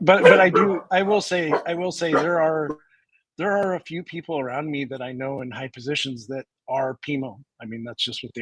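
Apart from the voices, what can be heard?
No everyday noises stand out.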